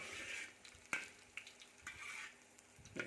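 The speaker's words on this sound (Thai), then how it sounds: "พอตั้งน้ำมัน เดือดเลยแล้วก็เอากระเทียมลงไปผัดกับน้ำมัน" Garlic stir-fried in boiling oil, a soft steady sizzle broken by a few brief louder crackles and scraping stirs as it is tossed in the pan.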